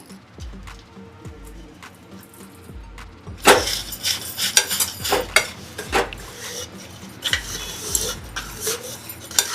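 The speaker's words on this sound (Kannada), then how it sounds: "ಇವಾಗ ಮಿಕ್ಸ್ ಮಾಡ್ಕೊಂಬಿಡೋದು ಅಷ್ಟೇ ಎಲ್ಲ ಮಿಕ್ಸ್" Dates, jaggery, cardamom and dry coconut are stirred and mixed in a pan, giving irregular scraping and clinking of a utensil against metal that grows busier and louder partway through.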